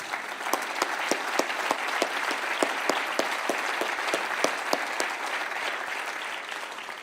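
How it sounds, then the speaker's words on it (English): An audience at a Night to Honor Israel event applauds steadily, with dense sustained clapping and a few sharper claps standing out, holding for several seconds before easing slightly toward the end. "So let's give a set of applause."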